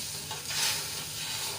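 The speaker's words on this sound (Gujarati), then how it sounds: "હવે આ વઘારને આપણે ઉકાળી લઈશું." Khaman tempering of water and sugar heats in a pan, giving a steady, soft bubbling hiss that swells briefly midway.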